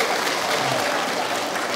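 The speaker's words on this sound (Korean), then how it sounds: "강릉 시민 여러분, 김해에서 오신 분께 박수 한번 부탁드리겠습니다" Outdoor audience at the Gangneung Danoje festival giving a short, loud round of applause, a dense burst of clapping that carries from start to finish.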